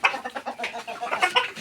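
A run of rhythmic, close clucks from local desi or farm broiler chickens, with short bursts repeating steadily.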